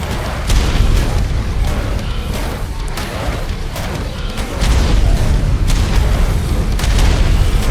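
Loud, dense bursts of booming explosions and popping blasts from Ark: Survival Ascended pile up continuously, a chaotic barrage with no pauses, during a fight against Grenadier bosses.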